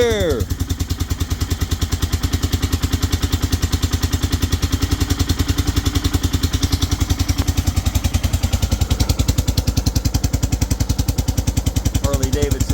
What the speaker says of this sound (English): Harley Davidson Dyna muffler doing its little pooty poot thing